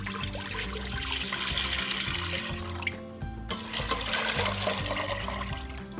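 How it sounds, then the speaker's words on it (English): Two quarts of water pour from a tap into a pot to make a bagel bath, a steady rushing splash with a brief dip midway, fairly close under background hum. "we're gonna add 2 quarts of water"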